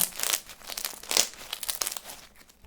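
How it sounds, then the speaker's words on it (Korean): Close crackling and crinkling as a crunchy chocolate-base slime with granules is squeezed, in uneven bursts of sharp little pops. "초코 베이스에 알갱이가 들어가 있어서 바삭바삭 소리 나는 게"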